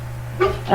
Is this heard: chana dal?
no